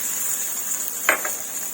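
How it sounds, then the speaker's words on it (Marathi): Hot phodni tempering with asafoetida poured over a cucumber and yogurt koshimbir salad gives a steady, close, bright sizzling hiss throughout, broken once by a short clink midway, with no voices. "ही फोडणी आपण याच्यावर टाकून घ्या खमंग फोडणी अशी टाकून घ्यायची"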